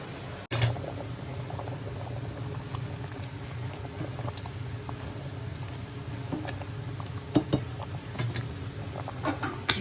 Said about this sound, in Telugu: ఇక అవుతుంది, తుక్కపెక్క ఉడికేస్తుంది.